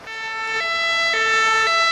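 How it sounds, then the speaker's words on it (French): French ambulance two-tone siren alternating between its high and low notes in a steady pattern, loud and close, with no voices over it. "mais elle a également la sirène dite 2 tons"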